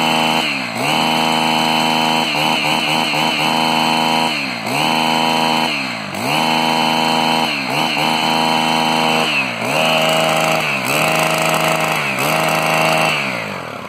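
Stihl BT 130 earth auger engine, a small four-stroke-mix motor, revved repeatedly: about eight loud, close bursts of high whining throttle, each rising sharply, holding, then dropping back briefly before the next.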